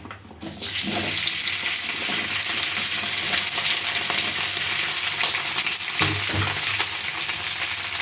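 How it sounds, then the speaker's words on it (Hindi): Okra drops into hot mustard oil in a wok and sets off a sudden loud, steady sizzle that crackles on unbroken, close and alone with no talking. "तो अब ऑयल गर्म हो गई है, तो अब इसमें डाल देंगे भिंडी।"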